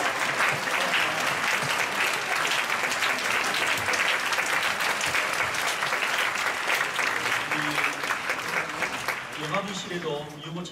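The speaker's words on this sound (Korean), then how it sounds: "큰 힘찬 박수로 한번 정리하겠습니다" A church congregation applauds loudly and steadily at a Friday night worship service, a dense wash of clapping that holds for about ten seconds before tapering slightly as a voice comes in near the end.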